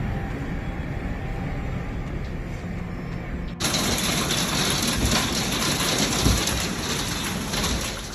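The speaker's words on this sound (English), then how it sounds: "Sometimes, all it takes is a single rainstorm to turn a peaceful afternoon into a suspenseful thrill ride." Heavy rainstorm pouring steadily. A broad hiss jumps suddenly louder and brighter partway through, then keeps roaring densely with a faint thump beneath.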